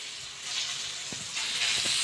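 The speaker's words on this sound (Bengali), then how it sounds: "পটল ভাজা হচ্ছে" Pointed gourd (potol) frying in a pan in a home kitchen, a steady close sizzle and hiss with faint stirring taps, no voices.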